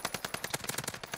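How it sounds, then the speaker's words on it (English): Rapid automatic gunfire from a Warzone firefight rattles off in a quick steady burst of about a dozen shots, moderately loud. "I'm being shot at"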